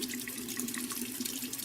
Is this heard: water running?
yes